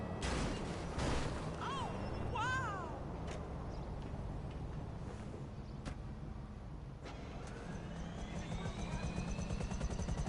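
A steady helicopter rotor drone from GTA V Online runs throughout, with game-like whooshes and chirping effects layered on top.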